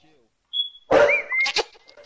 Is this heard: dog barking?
yes